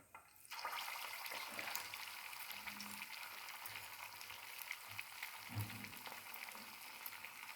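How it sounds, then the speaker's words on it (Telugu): Punugulu batter dropped into hot oil, giving a faint, continuous frying hiss with a few soft pops and small bursts, steady throughout and without any talk. "ఆయిల్ వేడెక్కిందండి. నేను ఇలా చిన్నగా పునుగుల కింద వేస్తున్నాను"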